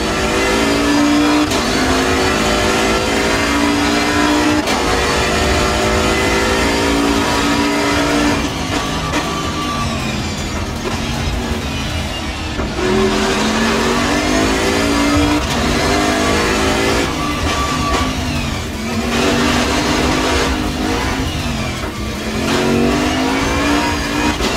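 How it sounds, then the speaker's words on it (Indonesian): A Bentley Continental GT3 2019 racing around Mandalika International Street Circuit in a racing game, its engine roaring loud and steady, revs rising and falling through repeated gear shifts with no talk. "Kali ini kita akan mencoba mencatat hot lap untuk mobil Bentley Continental GT3 2019 di trek baru Mandalika International Street Circuit."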